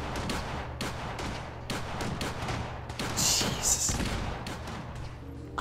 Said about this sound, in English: There are tons of explosions going off over there.